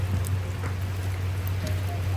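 Steady rain patters continuously over a low constant hum, with scattered drops tapping nearby throughout and no talking.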